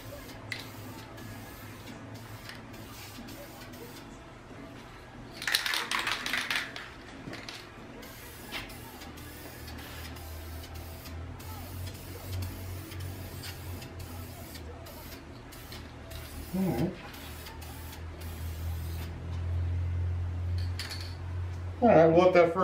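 An aerosol spray can lays a light first dusting coat of paint onto crusty 2001 Honda Accord wheel rims, heard as a few short close hissing bursts separated by quiet stretches.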